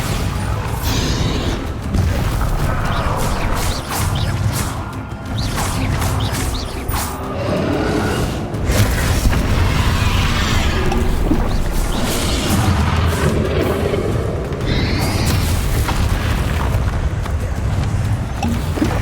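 In Hogwarts Legacy, a Bombarda spell explosion lands amid continuous loud magical combat, with booming impacts, crashes and whooshes layered densely over nearly twenty seconds.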